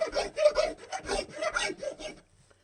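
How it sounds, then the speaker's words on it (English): Close, brisk strokes of a fine file smooth the wooden body sides of a Telecaster-style guitar, roughly eight scraping passes in a steady rhythm before falling silent. "then I come back with this more finer file and smooth them up"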